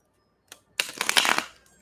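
A deck of tarot cards is shuffled up close, a brief flick followed by a longer riffling burst that fades out.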